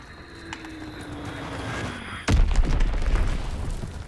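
A bomb drops and explodes in Call of Duty: WWII multiplayer, a single heavy boom breaking in partway through and rumbling on over an ongoing battlefield hum.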